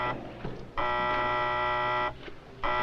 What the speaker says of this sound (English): when the alarm sounds at the fire station